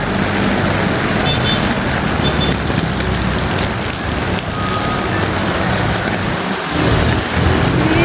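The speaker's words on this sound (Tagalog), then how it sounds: "Malakas na yung ulan, guys. Sobrang lakas na." Heavy, steady rain roars without pause, with low rumbling underneath that suggests thunder, and faint voices buried in the downpour.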